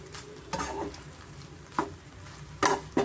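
Garlic egg rice being stirred and mixed in a pan, a few scattered scraping strokes and soft clatters over a low background sizzle, close and fairly quiet.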